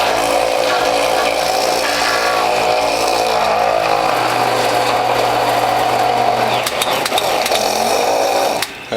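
A WHF premium juicer motor strains steadily as it presses carrots, a loud continuous whining hum with low grinding that runs unbroken for several seconds before a few sharp clicks near the end.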